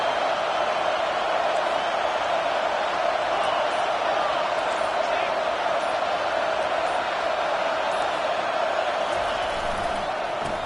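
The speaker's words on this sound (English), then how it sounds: "This crowd trying to make life miserable for this offense." Stadium crowd noise from the NCAA 25 college football video game forms a loud, constant roar that holds steady throughout, with no breaks.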